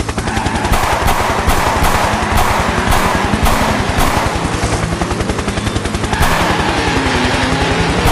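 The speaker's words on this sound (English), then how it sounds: "They're shooting at us. We're shooting at them." Rapid automatic gunfire rattles loudly and steadily through a video game car chase, with dense bursts repeating in a fast rhythm over a constant engine or rotor drone.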